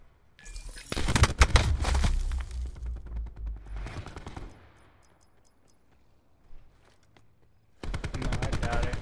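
Automatic gunfire in the shooter Black Ops 4, loud bursts of rapid shots, a long volley early, then scattered shots and quieter stretches, with another sustained burst near the end.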